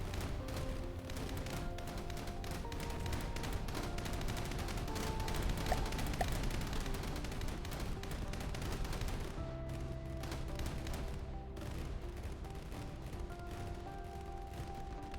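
Anti-aircraft guns on a destroyer in the From the Depths naval game hammer away in dense overlapping bursts, rapid staccato reports layered with booms, continuous for the whole stretch with brief thinning near the end.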